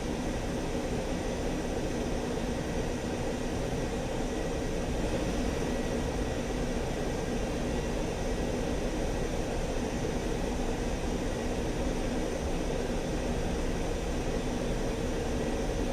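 Ka-50 Black Shark attack helicopter taxiing in the DCS flight simulator, a steady dense turbine and rotor roar that holds unchanged and loud throughout with no voices.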